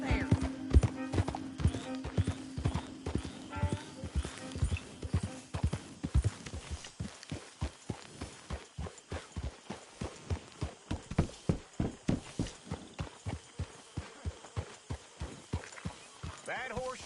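Horses' hooves clip-clop at a walking pace in a Red Dead Redemption 2 game scene, rhythmic and fairly close, with a sustained tone early on and voices talking over the steps.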